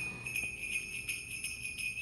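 Jingle bells ringing in a steady, evenly spaced rhythm, a bright, thin metallic shimmer heard alone at moderate volume.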